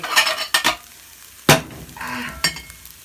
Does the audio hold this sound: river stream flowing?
no